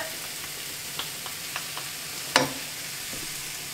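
Brussels sprouts braise in a pan as thyme and mustard go in: a faint steady sizzle under a few soft utensil taps and one sharp clink midway.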